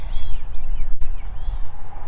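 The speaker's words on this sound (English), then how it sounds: "again, sorry about the wind" Heavy, rumbling wind buffets the microphone continuously in a garden, a dense low roar with gusty surges, loud and up close, with faint birdsong far behind.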